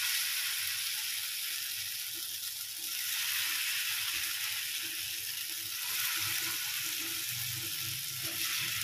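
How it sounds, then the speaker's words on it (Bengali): Potato stuffing balls coated in flour fry in refined oil, giving a constant soft sizzle and hiss that holds steady throughout with small crackles and no voices. "এবারে এই আলুর পুরগুলো ভেজে নিচ্ছি"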